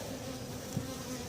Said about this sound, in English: The bees are unhappy. They don't like me.